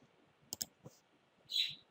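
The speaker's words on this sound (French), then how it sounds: "si je clique sur connexion" Computer mouse clicks on a login button: two quick close clicks, then a softer tap, and a brief hiss toward the end.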